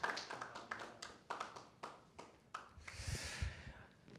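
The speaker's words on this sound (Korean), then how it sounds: "우리 박수로 함께해 주시길 바랍니다" Scattered clapping at a church ceremony honoring a congregation, a few sparse, distinct claps in a slow irregular rhythm, fairly quiet, with a brief swell of noise near the end.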